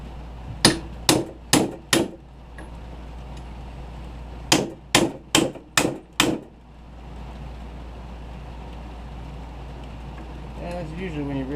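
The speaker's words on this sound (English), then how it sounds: "And your big old honking hammer." A big hammer strikes a socket to drive out a wheel bearing on a 1998–2004 Honda Foreman ATV knuckle, two sharp bursts of four and five ringing metallic blows, followed by a faint voice.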